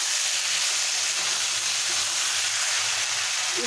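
A bottle gourd dish sizzles steadily in a pan as it is stirred, a continuous bright frying hiss with soft low scraping underneath and no voices.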